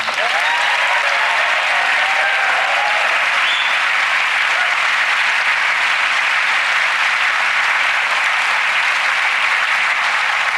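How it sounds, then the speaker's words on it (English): A studio audience at a magic competition show breaks into loud, dense applause as a contestant joins the stage, a continuous roar of clapping with faint cheers early on. "Please give Stacey a huge round of applause as she joins you on stage."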